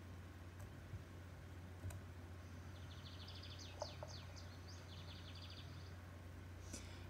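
A Lined Seedeater sings a quiet, high trilled phrase of quick repeated chirps lasting about three seconds, heard at a distance over a low steady hum and faint background noise.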